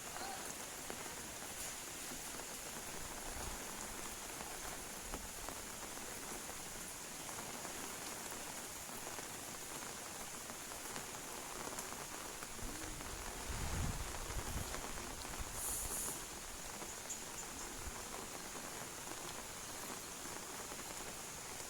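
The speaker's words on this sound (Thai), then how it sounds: "ฝนตกลินลิน หอมกินดินถืกอายฝน" Steady rain falls continuously, a soft, even hiss of drops with a slightly louder patter midway, no voices.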